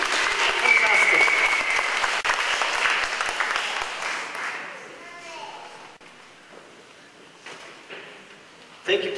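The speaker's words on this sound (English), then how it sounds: "give him a round of applause." An audience gives a round of applause, loud and dense at first, then thinning out and fading to scattered claps and quiet murmuring, with a sharp knock near the end.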